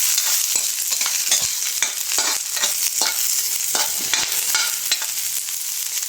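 Onion sautéing in a hot pan with oil, a bright continuous sizzle broken by repeated clicks and scrapes of a utensil stirring, close up and without talk.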